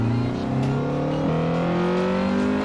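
Honda engine in the Forza Horizon 4 video game revving up through 4500 rpm as the VTEC engages, a steady rising drone that shifts pitch partway through, continuous and fairly loud with no talking.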